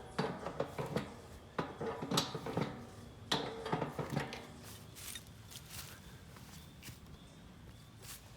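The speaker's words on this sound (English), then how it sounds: "I'm tightening this bolt, which will tighten up that ring and give me a airtight seal." A bolt is tightened on the ring of a small blue reaction chamber, with irregular close metallic clicks, knocks and scraping handling noises that grow sparser toward the end.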